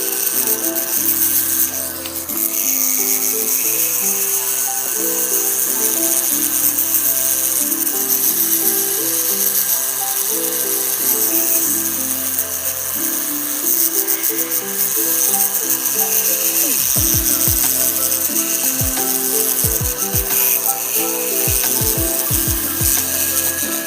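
A polishing brush spins against the inside of the prongs on a helix ring, making a steady, close mechanical whine with a rattling, gear-like texture and a few brief clicks near the end. It runs alone for the whole span.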